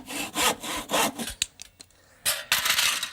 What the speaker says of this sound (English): So I'm going to cut those 2 bits off now.